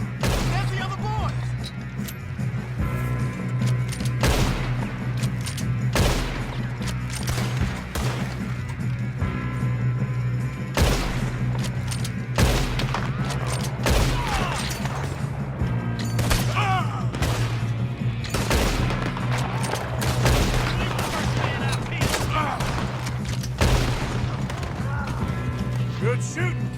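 Repeated gunshots ring out in a Red Dead Redemption 2 shootout around a train. The shots come in irregular sharp bursts, some clustered close together, layered over game sounds while voices talk throughout.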